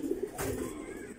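A racing pigeon gives a short, soft coo from close by in its loft, a brief throaty murmur with no talk over it.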